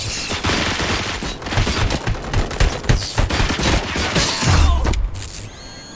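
Rapid bursts of gunfire in the RoboCop: Rogue City video game, loud overlapping automatic shots with mechanical clatter and a heavy boom near the end.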